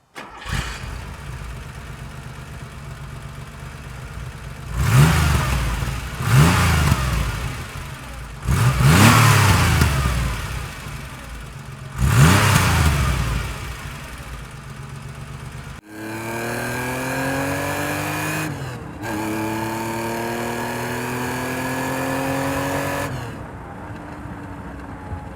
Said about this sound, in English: Driving the 1974 Porsche 911.